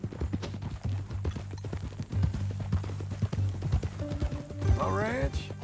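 Horse hooves clip-clop at a steady walking rhythm in Red Dead Redemption 2, close and clear under conversational voices, with a brief whinny-like sound near the end.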